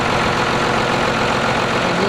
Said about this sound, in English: We're gonna pound it in with the tractor